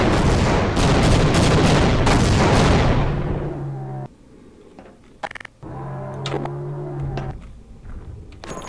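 Weapons fire in Half-Life Source during an air strike battle, a dense loud barrage of booming shots for about three seconds, then quieter scattered bursts and echoing blasts with a lingering low tone.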